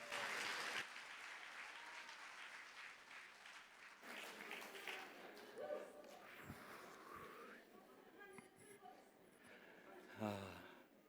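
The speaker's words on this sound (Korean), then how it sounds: "우리 두 전사님께 감사와 격려의 박수 해주시기 바랍니다." An audience at a church summer retreat lecture breaks into sustained applause, a dense wash of clapping that starts loud and gradually thins, with a voice speaking over it near the end.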